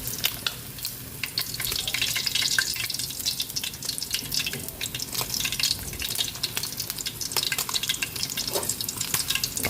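Steady, loud crackling sizzle of chicken deep frying in hot oil, continuous throughout with no talking.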